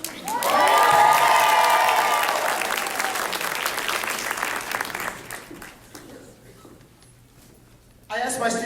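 A school audience at a winter choral concert applauds and cheers loudly, with a bright whoop at the start. The clapping slowly fades and thins to near silence before a short burst of noise returns at the end.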